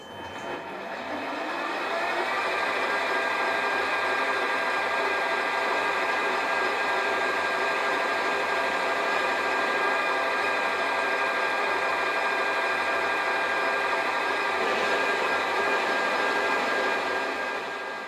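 A metal lathe turns a bar down to 6 mm diameter while making a between-centres boring bar, giving a steady, loud mechanical whine with dense tonal hum that runs continuously, without a break, for the whole stretch.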